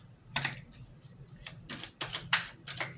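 Tarot cards pulled and shuffled from a deck during a full moon reading, giving a run of crisp, papery flicks and slaps at an uneven pace, close and fairly quiet with no voice over them.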